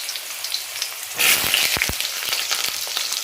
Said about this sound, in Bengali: এখানে কড়ার তেলটাও গরম হয়ে গেছে, আলুটা কোথায় দিয়ে দিই